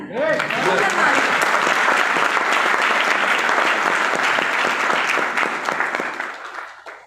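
Loud, sustained applause from a large audience, dense clapping that holds steady for several seconds before tapering off at the end.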